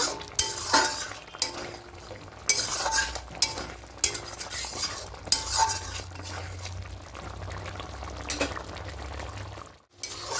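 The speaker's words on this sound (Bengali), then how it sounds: "এবার আর ঢাকা দেবো না, ঢাকা খুলে আরেকটু এটাকে গ্রেভিটাকে গামাখা করে নেব।" A pan of curd paneer gravy cooks uncovered, giving a steady low simmering bubble with repeated scraping and stirring knocks of a spoon against the pan, close and fairly soft.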